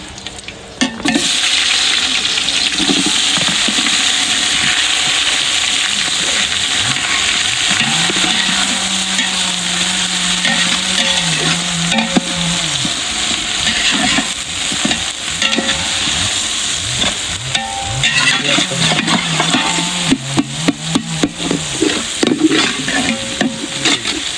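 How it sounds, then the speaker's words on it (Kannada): Onions fry with garam masala for chicken biryani in a pot over an open village fire, a loud, continuous close-up sizzle broken by repeated stirring scrapes and clanks throughout. "ಈರುಳ್ಳಿ ಒಂದು ಒಳ್ಳೆ ಫ್ರೈ ಆಗಲಿ"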